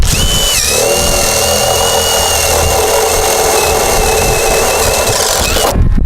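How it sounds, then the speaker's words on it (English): A power drill whines steadily at high pitch for several seconds, loud and close, grinding through a plastic rain barrel before cutting off abruptly near the end. "So I'm going to go ahead and drill my hole right here."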